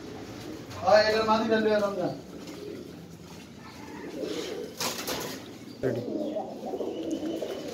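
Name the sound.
pigeons cooing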